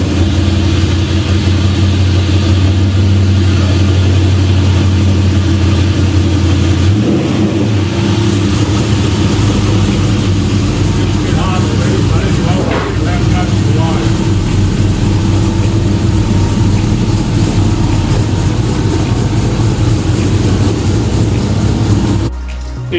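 A 1957 Chevy Coupe on a short test drive around the block with newly checked brakes, its engine droning loudly and steadily with some revving and rolling road noise throughout, ending abruptly.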